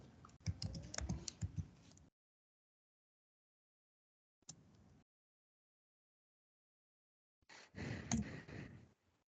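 Computer keyboard typing during a database class session, with a dense burst of keystrokes, a brief lone tap, then another short flurry of key presses, separated by silence.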